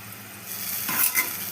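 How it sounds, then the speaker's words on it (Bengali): Water coming to a boil in a pot for a puti fish chorchori curry, giving a steady close hiss of bubbling that swells into a couple of louder surges near the end, with no talking. "জলটা ভালো করে ফুটুক, তারপর মাছটা ছাড়বো"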